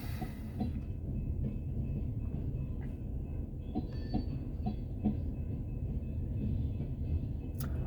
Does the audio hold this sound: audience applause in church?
no